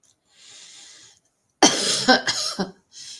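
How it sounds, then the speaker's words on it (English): A harsh, wet cough bursts out in a few quick hacks after a soft breathy pause, close and loud, with no talking. "excuse my coughing"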